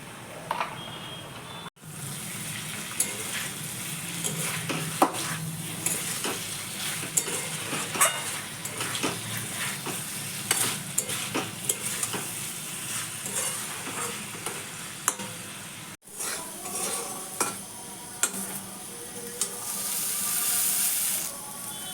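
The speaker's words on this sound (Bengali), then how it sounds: "সোয়াবিনা পরিমাণ মতো লবণ দিয়ে ভেজে নিলাম" Soybean chunks fry in a pan with salt and turmeric, giving a steady close sizzle broken by frequent scraping stirs, with no one talking.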